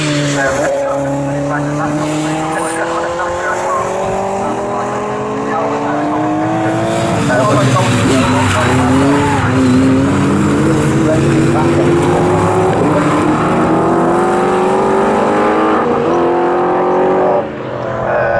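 GT and GT4 race cars roar away together at the start of a race at Snetterton circuit, a dense, loud wall of engines rising and shifting through gears, sustained throughout with a brief dip near the end.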